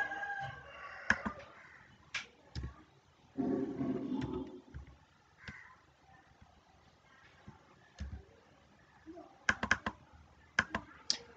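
Someone types on a computer keyboard while filling in an online e-pass application form, producing intermittent bursts of close clicks and taps, with chickens or a rooster audible in the background.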